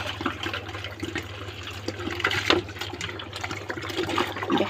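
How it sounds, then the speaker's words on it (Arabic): Water pours from 2-litre plastic bottles in a steady close splashing and gurgling stream, continuous for several seconds with no talking. "اول حاجه هنعملها هندلق الميه"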